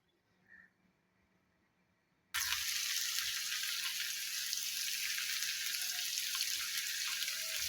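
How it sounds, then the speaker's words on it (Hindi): Garlic frying in hot cooking oil starts abruptly after a quiet pause, becoming a loud, continuous hissing sizzle that carries on steadily up close. "अब लहसुन को लाइट ब्राउन कर लेते हैं।"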